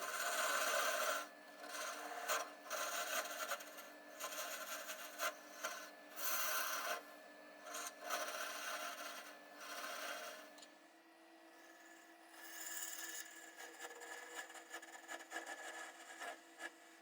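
A negative rake scraper rasps continuously against a small wooden lidded box spinning on a lathe. The scraping is steady and close, with rhythmic pulses as the tool moves back and forth.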